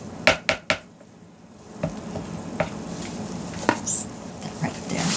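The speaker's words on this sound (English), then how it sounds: "Give that a good stir" A spoon stirs a moringa clay soap mixture made with organic ingredients. It opens with a few sharp clinks against the container, then gives a scattering of softer scrapes and taps.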